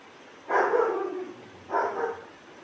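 A German shepherd barks twice, nearby and loud, two full-throated barks a little over a second apart with quiet between them.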